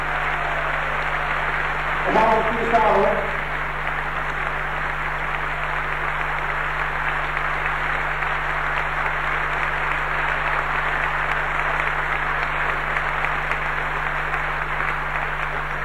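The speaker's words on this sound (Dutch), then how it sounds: "Ook voor hun graag een hartelijk applaus." Audience applause for orchestra members at a concert, a steady even wash of clapping throughout over a low electrical hum, with a brief spoken remark near the start.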